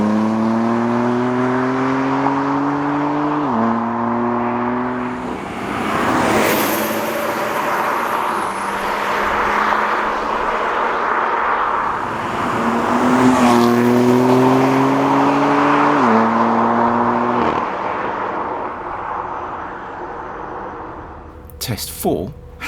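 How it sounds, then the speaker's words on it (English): A petrol BMW M3 and a diesel Alpina D3 rev hard at full throttle through third and fourth gear, rising pitch sweeps dropping briefly at each gear change before climbing again, close and powerful. "With both cars wide open in third then fourth gear"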